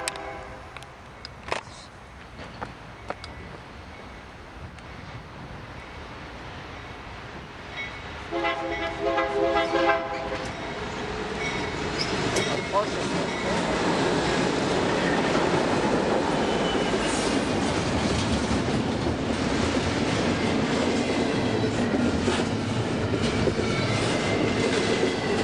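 A freight train rolls through Fullerton station, starting with scattered clanks, then a horn blast, then a loud, sustained roar of wheels and rattling cars passing close by.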